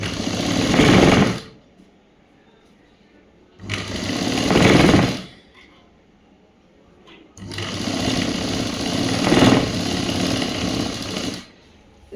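Sewing machine stitching a government school uniform shirt in three bursts, two short and one longer, a loud close buzzing drone with near-quiet gaps between runs.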